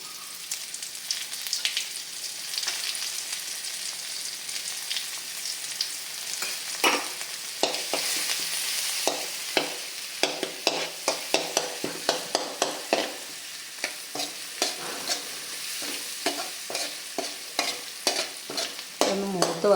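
Crushed onion and chili frying in hot oil, a steady soft sizzle broken by repeated sharp scraping strokes of a spoon stirring the pan, growing busier toward the end.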